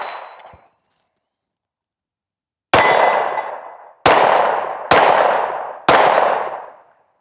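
Four loud, sharp reports from a Sig Sauer P320 XCarry pistol firing 124 grain V-Crown hollow points, each ringing out and decaying, after a short metallic click and a stretch of silence.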